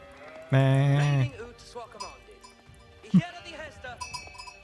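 Sheep in the Age of Empires IV video game give a loud, drawn-out bleat, followed by a second shorter bleat, with cowbell-like clinks and game sounds in the background.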